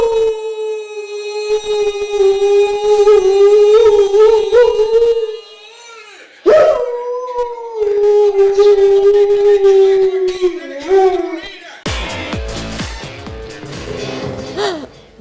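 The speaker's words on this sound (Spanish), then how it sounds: "Ese perro grita los goles." A dog howls in long sustained wails, loud and close, rising and falling across several drawn-out cries with a short break between them, then ending in rougher, noisier yelps.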